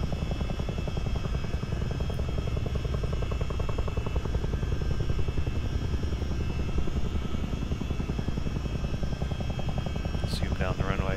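A Chinook CH-47D twin-rotor helicopter in Microsoft Flight Simulator, with a loud, steady rotor drone and a rapid, pulsing chop that runs unbroken throughout, and a brief higher whine near the end.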